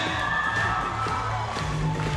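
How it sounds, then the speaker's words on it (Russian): An audience at a dance marathon in Luzhniki, Moscow, cheers and applauds the winners, forming a dense, continuous wash of crowd noise and shouting for a couple of seconds. "Аплодисменты!"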